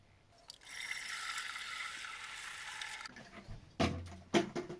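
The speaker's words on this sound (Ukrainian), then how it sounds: "До поділки 17 літрів буду наливати води." Water is poured steadily into a large container up to the 17-litre mark while making a homemade kirschwasser, a continuous rushing stream for about three seconds, followed by a few clunks and splashes.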